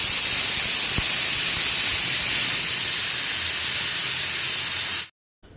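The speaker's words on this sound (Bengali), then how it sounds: "ওগুলোকে আমি প্রেশারে নুন দিয়ে একটু সিটি দিয়ে দিচ্ছি" Pressure cooker whistling loudly and steadily while jackfruit cooks with salt, a continuous hissing steam blast lasting about five seconds before cutting off abruptly.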